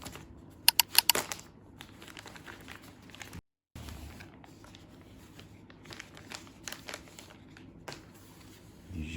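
Packaging for a DJI Mic Mini being opened makes close crinkling and tearing, with a sharp burst of rustles early on and lighter handling and crackling afterward, and no voices.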